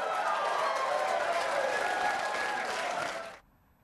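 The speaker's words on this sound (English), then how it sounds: "The loud applause that you heard in the OHA debate has become a new feature in a lot of political debates" Loud, dense applause from a crowd at a Hawaii governor's race debate on OHA issues, sustained for over three seconds with faint voices mixed in, then cutting off abruptly into near silence.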